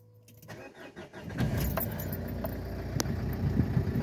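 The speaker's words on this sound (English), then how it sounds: "Start natin yung makina. Start the engine." Nissan NV200 van engine starting: a brief jingle of keys and clicks, then the starter cranks and the engine catches into a rough, close idle with a few sharp clicks.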